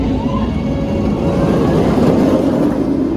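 Nemesis roller coaster train at Alton Towers roaring past, a loud sustained rumble with rising and falling intensity, no talking.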